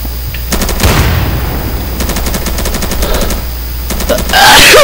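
Rapid bursts of automatic gunfire in short repeated volleys in the video game Insurgency, loud and close, with a louder blast near the end.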